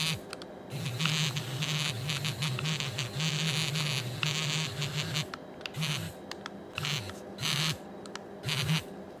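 The rumble motor in an 8BitDo SN30 Pro controller buzzes loudly and harshly in repeated pulses with short gaps between them. The buzz is close to the mic, steady while it runs, and has no talk over it.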